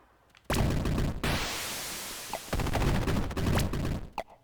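Rapid, loud synthetic gunfire comes from the twin-stick arcade shooter Eugatron, with dense bursts of blasts and crackles separated by brief sharp pops and short pauses, and no talking.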